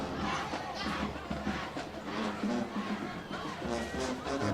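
A high school football crowd at a night game between Ridge Point and Bush keeps up a dense, steady roar of voices and cheering, loud and continuous with no single voice standing out.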